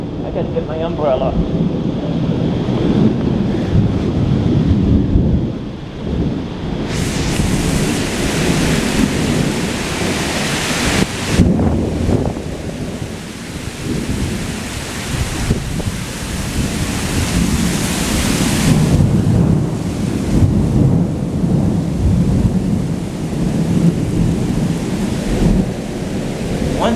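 A thunderstorm with heavy rain lashes down during a rain delay at an outdoor concert, a steady loud wash of rain broken by rumbling thunder, with a few people talking close by.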